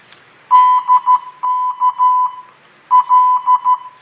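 Morse code at 13 words per minute from a training program beeps as a single steady tone, crisp dots and dashes in quick groups separated by short pauses, loud and clean.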